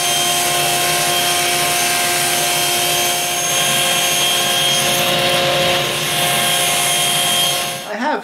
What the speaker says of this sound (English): we are going to rip a piece of 3/4 stock 2 inches wide, and then we're going to cross cut it